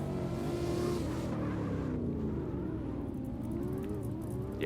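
Drift car engine from CarX Drift Racing Online, a Phoenix NX with Thunderstrike modification, revving and droning steadily and loudly throughout with shifting pitch and a hint of tire noise.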